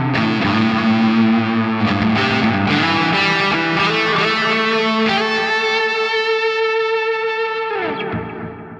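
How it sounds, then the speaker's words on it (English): Distorted electric guitar lead played through an Ampero II Stomp into a real cabinet with delay and reverb, sustained singing notes and bends with echoing repeats, loud and alone, ringing out at the end. "quickly engage the delay and reverb and show you the lead tone through this"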